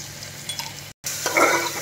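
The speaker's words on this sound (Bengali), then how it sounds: "অদ্ৰক আৰু নহৰুৰ পেষ্টখিনিও দি দিম ইয়াতে তেলত ফ্রাই হ'ব গোটেইখিনি একেলগে" Ginger and garlic paste frying in oil for an Assamese-style mutton curry, a steady close sizzle that cuts out briefly, then returns and swells louder as the paste hits the hot oil.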